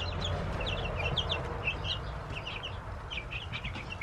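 Frizzle and Cochin hens cluck and chirp in a steady, close flock chorus, repeated short calls over a constant low background hum.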